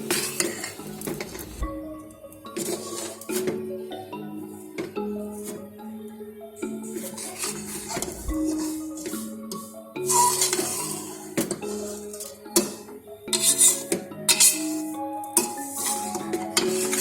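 A spoon stirs and scrapes through date and lentil halwa frying in a pan, with repeated metallic clinks against the pan and a soft sizzle underneath, steady and close.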